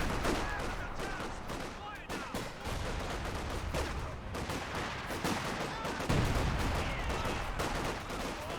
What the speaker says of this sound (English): He does throw a pyrotechnic flare there.